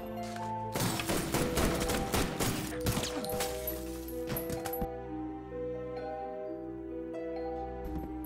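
Rapid gunfire in a film shootout, a dense burst of loud shots and metallic clatter lasting several seconds that gives way to a sustained tonal music score.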